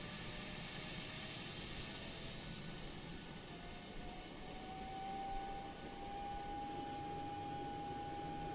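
A PMDG 737-800 jet engine whines in MSFS2020 with the Boris soundpack. A high, thin tone slowly rises in pitch over a steady broadband roar, with no talk.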